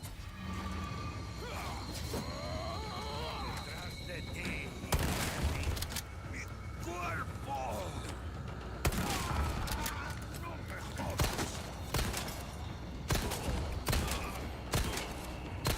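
Gunfire in Resident Evil 4 Remake, scattered sharp shots cracking at intervals over a busy game soundscape of clatter and creature noises, with a person talking faintly at times.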